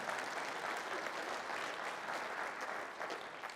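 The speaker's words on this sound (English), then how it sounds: "You don't have to clap for that one." Audience applause fills a lecture hall during a talk on building strong towns, steady and dense, fairly quiet and continuous for several seconds with no speech over it.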